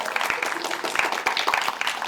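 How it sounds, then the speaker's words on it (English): Audience applause for a panel member at an audio fiction panel event, a steady wash of clapping from a crowd lasting the whole stretch, fairly loud and continuous with no talk over it. "So a round of applause for Katie."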